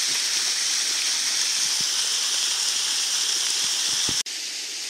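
A forest stream rushes steadily nearby, a loud, dense broadband wash of flowing water that holds constant throughout, with a brief dip near the end.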